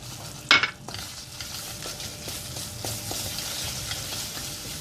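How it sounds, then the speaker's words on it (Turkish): Flour with a spoonful of tomato paste roasting in a pot for tomato soup, with a soft steady sizzle, a sharp clank near the start and light scraping stirs at intervals. "Kavrulan unumuza bir yemek kaşığı domates salçamı ilave ediyorum."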